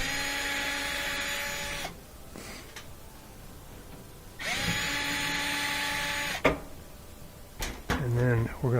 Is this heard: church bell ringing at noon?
no